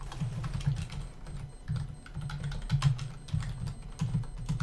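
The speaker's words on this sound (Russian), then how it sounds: "Прошу прощения за звуки печатающей клавиатуры." A computer keyboard is typed on in quick, uneven bursts of soft clicks and thuds, close and fairly quiet, during a game match broadcast, with no voices over it.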